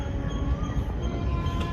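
A Mangalore-bound train pulls out of Karur station with a low, steady rumble of wheels and rolling stock, continuous and moderately faint, with no talk.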